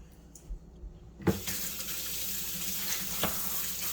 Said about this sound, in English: Washed all the egg off my hand now